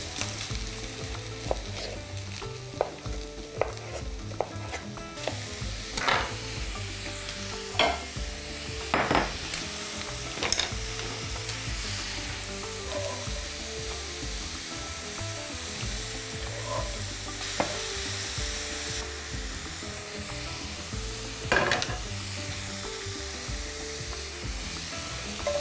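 Sweet pepper pieces fry in a pan that has just been used to cook pork, giving a steady sizzle. Scraping stirs and utensil clinks against the pan come through now and then, and there is no talking.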